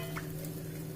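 Parotta dough laid on a hot griddle gives a faint, steady low sizzle with a steady hum, brief and close, with no voices.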